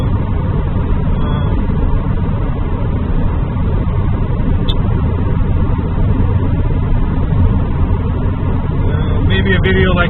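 A 1986 Mitsubishi Starion turbo cruising on a freeway, heard from inside as a constant loud drone of engine and road noise, with a person talking over it.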